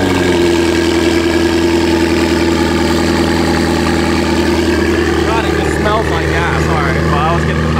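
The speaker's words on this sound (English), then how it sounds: "we'll get a cold start on this one" Cold-started 1000hp Toyota Supra engine idling loud and close with a steady, lumpy drone and exhaust rumble throughout; someone speaks briefly over it.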